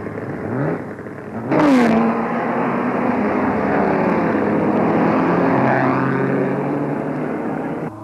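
Vintage racing cars from 1930, ranging from small sevens to large racers, start a 500-mile race at Brooklands: a dense, loud roar of many engines accelerating together, with a whine rising early on and a sustained drone.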